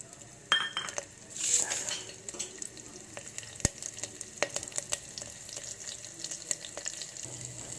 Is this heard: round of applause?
no